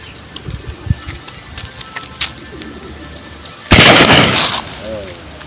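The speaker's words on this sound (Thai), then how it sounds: "ปืนลั่นทุ่ง ยิงไรนก" A Lan Thung bird-scaring cannon fires a single loud, close blast that rings out for about a second, after quieter pigeon coos and scattered outdoor sounds.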